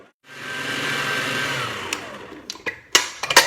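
An electric mixer whirs steadily through softened butter, sugar and vanilla for shortbread dough, a close continuous motor drone that gives way to a few knocks and clatters near the end.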